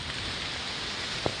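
Heavy rain pours steadily during a typhoon in Malolos, Bulacan, a dense, even hiss filling the scene around a fishpond area, with one brief knock near the end.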